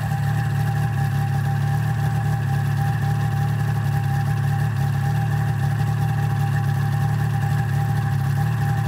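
A Ski-Doo MXZ 600 snowmobile engine idles steadily and close by, a constant low rumble with a droning hum and vibration that holds through the whole stretch, with no talk over it.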